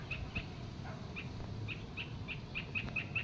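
Many small birds chirp and call repeatedly at dusk in short high bursts, steady and fairly close, over a constant low background rumble.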